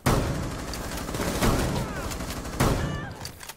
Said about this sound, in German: Alter, die Shotgun haut echt rein.